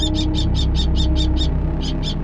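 A series of sharp, high chirping calls from a Japanese sparrowhawk calling at an owl, repeated in a quick steady rhythm with a short pause, loud and close over a low hum.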